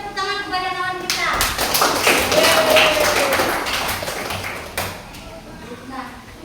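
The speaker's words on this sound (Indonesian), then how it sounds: "beri tepuk tangan kepada kawan kita." A classroom breaks into applause, a dense burst of clapping lasting a few seconds, with voices talking just before and after it.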